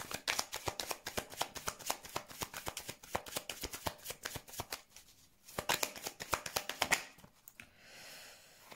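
A deck of tarot-style cards is riffled and shuffled by hand, giving fast bursts of crisp flapping clicks with brief pauses between passes, close and clear, ending in a soft shuffle of handled cards.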